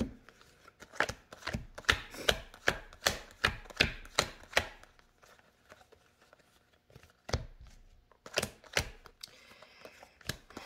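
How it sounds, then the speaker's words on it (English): Playing cards being shuffled and sorted by hand: a quick run of sharp, rhythmic clicks and riffles, a short quieter pause, then another burst, all close and with no speech. "We're just gonna organize these cards right quick"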